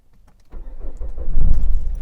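A Nissan Micra K12 cranks briefly and catches, settling into a steady, fairly loud low idle rumble that swells slightly after starting, with no talking.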